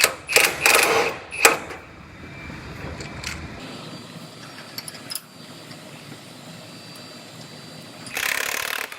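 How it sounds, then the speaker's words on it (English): Bolts are tightened on the top clamp of a frame-straightening rack: a few sharp ratcheting bursts at the start, quieter metallic fiddling in the middle, and another short burst at the end, with no talk. "So the first thing is I'm going to tighten up the top clamp part."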